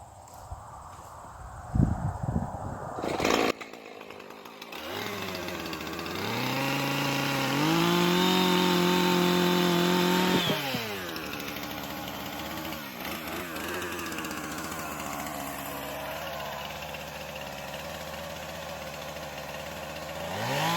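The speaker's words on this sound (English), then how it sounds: "that's if I have enough gas in my chainsaw" A chainsaw engine revs up and runs loud and steady for several seconds while cutting wood, then drops back to a rough idle, close by with no talking.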